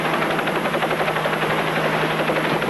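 A helicopter hovers close overhead during a water-ski stunt, its steady rotor chop a loud, continuous pulsing roar throughout.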